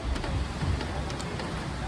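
Continuous rain falls outdoors as a steady, even hiss of drops with a low rumbling undertone and no pauses.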